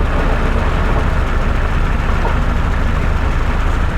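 Hotchkiss-built Willys army jeep engine idling steadily and loudly up close while the idle mixture screw is adjusted, a continuous low rumble with no pauses.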